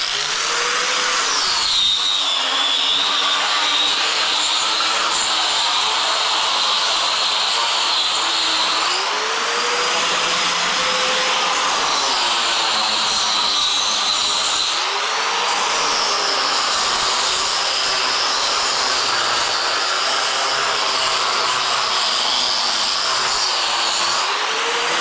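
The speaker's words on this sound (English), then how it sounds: "This is called a cup grinder" Cup grinder attachment on an angle grinder strips paint from tiles, a loud continuous high whine with shifting pitch and brief dips as the tool is pressed and lifted, running steadily throughout with no talk.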